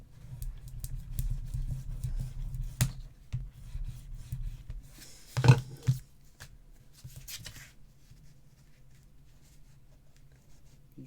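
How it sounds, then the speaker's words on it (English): Paper is burnished along a score line for a mini album, a close, soft rubbing swish in quick strokes that fades after a single louder bump, leaving near silence. "I'm just going to give that a good burnish."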